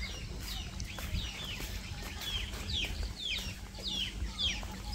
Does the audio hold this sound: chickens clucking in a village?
yes